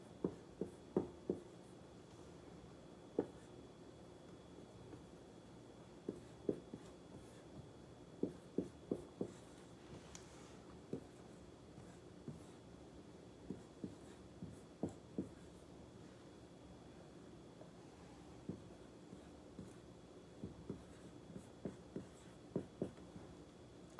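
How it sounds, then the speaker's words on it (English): Chalk or marker writing problems on a classroom board makes quiet, irregular taps and short scratchy strokes, scattered in bursts over a hushed room with no talking. "as I write these problems on the board"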